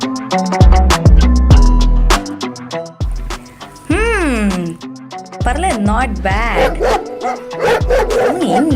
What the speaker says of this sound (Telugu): కుక్కల సప్పుడు వస్తుంది